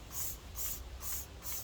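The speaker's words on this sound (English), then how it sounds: "Just give it a nice spray" Diluted Quartz Chemi all-purpose cleaner sprayed onto a car, with four steady hissing bursts from a trigger sprayer in an even rhythm, close and soft, no speech.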